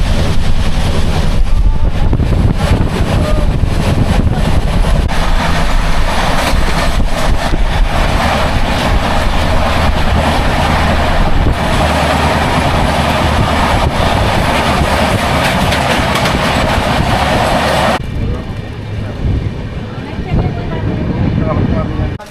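A passenger train on the Kolkata to Varanasi route rumbles along the tracks after leaving Kamarkundu station, a loud continuous rolling roar with rattling carriages that drops in intensity near the end, with talk mixed in.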